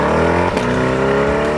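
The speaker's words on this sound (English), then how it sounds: "when you hit the accelerator in this car" A 2023 Corvette's naturally aspirated 6.2-liter V8 revs hard under acceleration, a loud, continuous engine roar climbing steadily in pitch with a brief gear-change dip midway, heard close with no talk.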